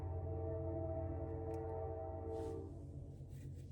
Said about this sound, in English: Now I got a train going by here.